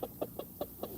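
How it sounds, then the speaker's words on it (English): A small frizzle rooster clucks in five quick, evenly spaced soft notes, close by and fairly quiet, with no talking. "He's one of our little frizzles."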